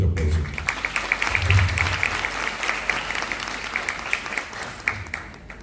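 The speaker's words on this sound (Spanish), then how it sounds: "vamos a recibirlo con un fuerte aplauso." Audience applause at an international obstetrics congress greeting a minister, steady crowd clapping sustained for several seconds with some sharper individual claps standing out.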